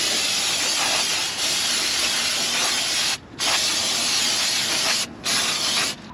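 Aerosol brake cleaner sprayed onto the brake rotors of a 2015 Toyota RAV4, a loud continuous hiss in long bursts with two brief pauses between them.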